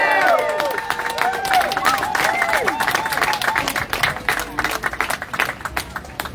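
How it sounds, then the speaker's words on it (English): A crowd at a rally cheers, whistles and applauds together, a dense wash of clapping with rising whoops and shouts that continues steadily for several seconds before thinning into scattered claps. "Let's see who can come up with the biggest, loudest cheer."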